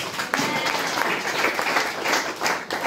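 Congregation applauding for the Lord during a church sermon, a steady dense wash of clapping lasting the whole stretch at even loudness, with no voices over it.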